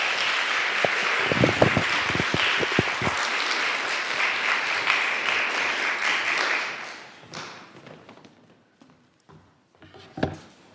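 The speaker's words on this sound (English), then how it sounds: "I think we should clap again" An audience at a Cache Valley Oasis gathering claps loudly and steadily for several seconds, with a few sharp nearby claps, then the applause fades into scattered claps and a last brief burst.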